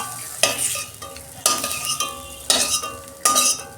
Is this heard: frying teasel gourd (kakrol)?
yes